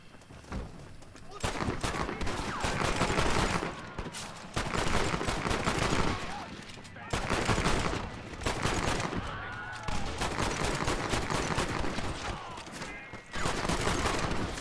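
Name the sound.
semi-automatic pistol gunfire in Red Dead Redemption video game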